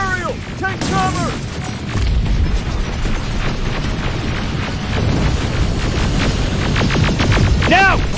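A hunter-killer aerial drone attacks in the shooter Terminator Resistance, with booming blasts and mechanical whirring sustained loudly under intermittent warbling electronic tones and voices.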